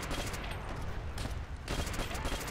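Rapid, loud gunfire from Call of Duty: World at War, a dense fusillade of close shots in quick bursts with brief gaps, continuing throughout.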